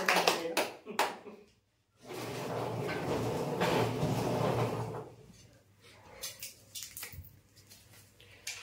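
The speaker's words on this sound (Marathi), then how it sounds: "एकदा जोरदार टाळ्या होऊ द्या याच्यासाठी" Clapping for a prize draw winner comes as a few sharp claps, then a sustained burst of audience applause before it thins into scattered claps and faint talk.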